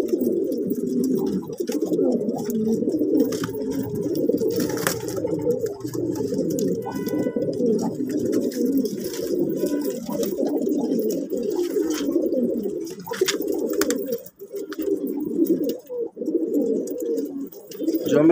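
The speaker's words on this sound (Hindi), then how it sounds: "देखें जी ये टांगों पर बैठे हुए जी कबूतर" Fighter pigeons perched in a loft coo continuously, a low murmuring chorus of overlapping soft coos close by, with faint rustling and occasional small sounds in the background.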